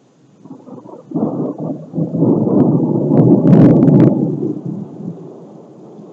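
Deep rolling thunder from a very violent thunderstorm, building into a loud, sustained rumble with sharper crackling bursts at its peak before fading, heard close and alone.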